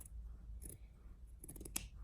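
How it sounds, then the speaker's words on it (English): Sharp fabric scissors snip through two layers of fleece in a few quick, close cuts, with crisp shearing bursts separated by brief pauses. "So that's why you need some scissors that are pretty sharp."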